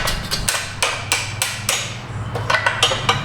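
An air hammer used on a 2014 Subaru Outback subframe, repeated sharp metallic hammering bursts, close and loud, in irregular quick strikes with brief pauses between them.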